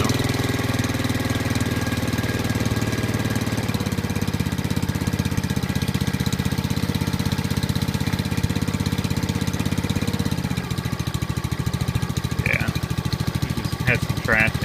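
A Honda clone ATV engine, its carburetor just cleaned, idles with a steady close-up chugging throb that drops to a lower idle near the end, while a brief voice comes in toward the finish.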